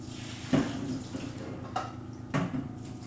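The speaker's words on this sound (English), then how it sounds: "I'm going to drain the water, and then we're going to make our mashed potatoes." Hot water from boiled potatoes pours into a kitchen sink, a steady running splash with a few metallic clanks of a pot against the sink, close and unaccompanied by talk.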